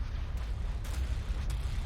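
Explosions rumble through a space battle between fleets of ships in Star Wars Empire at War with the Old Republic Mandalorians mod, a dense continuous boom with sharper bursts cracking out roughly three times, no voices.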